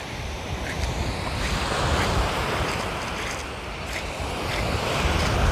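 Sea waves wash steadily at the seaside, a continuous broad rushing surf with wind buffeting the microphone, fairly loud and close, with no talking.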